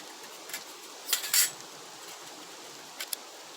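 Parts of a collapsible metal twig stove being fitted together, a few short metallic clinks and scrapes spread over the clip, with a louder cluster in the middle and two quick taps near the end, against quiet background.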